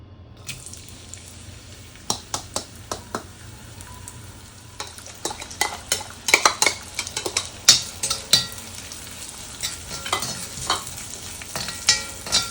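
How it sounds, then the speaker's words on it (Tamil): Onions fry in about three spoons of oil in a small pan over medium heat, a steady soft sizzle broken by repeated sharp scrapes and clicks as a spoon stirs them, close and alone. "லைட்டாக ஃப்ரை ஆகட்டும்."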